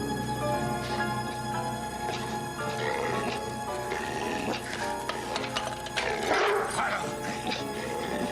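A dog barks and whimpers amid a dramatic scene with loud crashing and music, the animal's yelps mixed under a busy, dense soundtrack.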